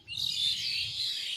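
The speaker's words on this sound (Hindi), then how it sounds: "छत पर बहुत चिड़ियों का शोर आप लोगों को भी सुनाई दे रहा होगा" Many birds chirp together in a tree beside a rooftop, a dense, continuous high twittering chorus heard from nearby with a low rumble beneath and no talk.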